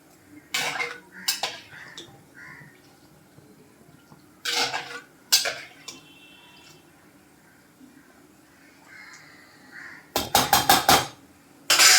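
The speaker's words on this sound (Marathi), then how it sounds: "पाण्यामध्ये शेवया टाकून झाल्यावर थोड्या हलक्या हाताने" Bursts of metallic clinking and scraping as a utensil gently stirs vermicelli in heating water inside a pot, coming in short clusters separated by quiet stretches.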